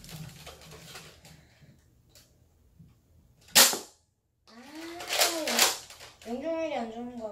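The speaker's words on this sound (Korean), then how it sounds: "일단은 지금 총 쏘는 거 봐봐." Nerf toy gun firing in a home setting, a single sharp pop with a burst of noise standing out between stretches of speech; people talk before and after the shot.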